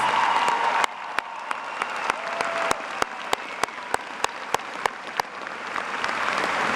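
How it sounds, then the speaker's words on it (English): Applause from a graduation audience at John Glenn High School's 2013 ceremony swells and holds, with a string of sharp, regularly spaced clicks or pops cutting through the steady clapping. "ladies and gentlemen, join me in a round of applause for these brave individuals"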